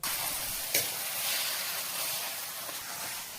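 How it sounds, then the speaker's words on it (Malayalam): Marinated chicken goes into onions browning in coconut oil, giving a steady, fairly loud sizzle with a brief sharper burst as the pieces hit the pan; no one speaks. "മാരിനേറ്റ് ചെയ്ത് വെച്ചിരിക്കുന്ന ചിക്കൻ അതിലേക്ക് ചേർത്ത് മിക്സ് ചെയ്ത് കൊടുക്കാം"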